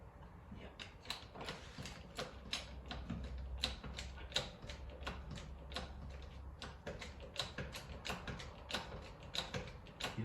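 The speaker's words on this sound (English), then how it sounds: "You're lifting the wheel now." A jack lifts the wheel of a Massey 25 tractor with a steady run of quiet, close ratcheting clicks and metallic ticks, rhythmic and faint throughout, with no talking.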